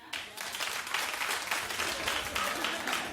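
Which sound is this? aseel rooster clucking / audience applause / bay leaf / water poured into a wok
audience applause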